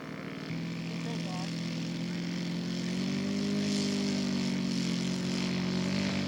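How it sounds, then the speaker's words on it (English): A radio-controlled scale model airplane taxis out at a scale aircraft show, its small engine giving a steady buzzing drone that rises in pitch and grows a bit louder partway through, with voices talking over it. "taxiing out for his first flight of the day"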